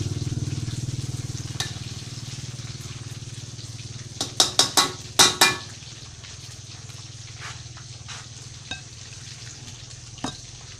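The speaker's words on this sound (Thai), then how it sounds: "ตอนนี้ทอดให้เหลืองเลยครับ" Pork sausage fries steadily in hot oil until golden, giving a constant soft sizzle. A brief cluster of sharp clicks and pops sounds midway, followed by a few isolated ticks.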